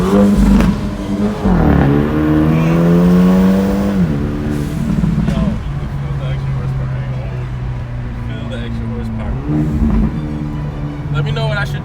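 Hyundai Elantra N fitted with a new loud exhaust, revved hard in a rising snarl that drops back to a deep rumbling idle, then blipped again near the end, loud and close with people talking over it.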